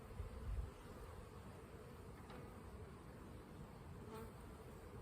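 Honey bees buzzing steadily around an open hive during a spring colony inspection, a dense continuous drone close by with a brief louder thump at the start and no talking.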